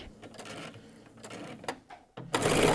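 A home sewing machine stitches a backstitch while attaching the collar of a jacket, running in short bursts with brief pauses, then a louder, steady run at the end.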